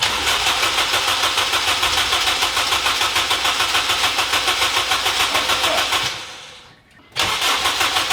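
A Honda K20a engine in an Integra being cranked to start: loud, fast rhythmic starter churning for about six seconds, a brief drop to near quiet, then cranking resumes, close up.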